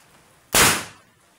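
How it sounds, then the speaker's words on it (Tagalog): A single loud, sharp blast from a homemade cannon made of about ten joined cans erupts suddenly and decays over about half a second, close by, with near silence before and after. "Grabe ang lakas ng putok guys."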